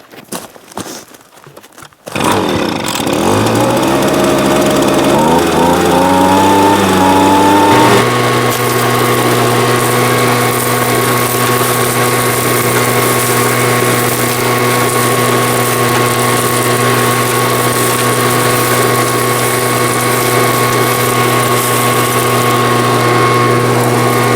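A gold prospecting vacuum machine in an old gold mine starts after a brief rustle, its engine spinning up through rising tones into a loud, steady, droning run that continues alone.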